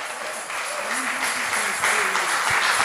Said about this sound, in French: with a clap offering, let's receive Pastor Lenos to give us the word of God